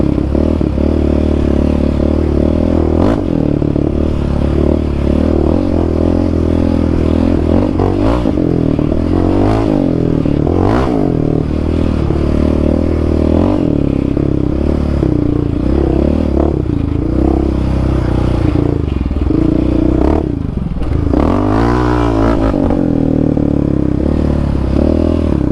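Yamaha Raptor 700 ATV engine ridden fast, a loud continuous buzzing roar that rises and falls through revs and gear changes, with clattering and scraping over rough ground and no speech.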